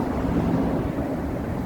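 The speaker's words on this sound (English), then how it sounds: "so there's going to be some traffic noise" Highway traffic passes close by, a steady broad roar and rumble of vehicles that runs without a break through the whole moment and sounds loud and near.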